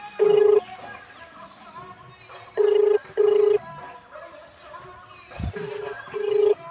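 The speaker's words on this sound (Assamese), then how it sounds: "ইয়াৰ ফোন ৰিং হৈ আছে" A mobile phone ringtone plays nearby in loud, short tonal bursts: two, then a pause, two more, then a softer pair near the end.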